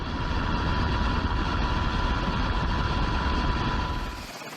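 Helicopter hovering over the sea during a rescue, a steady, loud broadband engine and rotor roar with no distinct blade chop, holding constant before easing off slightly near the end.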